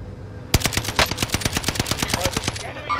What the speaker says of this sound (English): He's getting shot at.